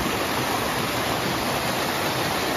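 A waterfall pours along a hiking trail, a loud, steady broadband roar of rushing water that fills the whole moment without change, close by and uninterrupted.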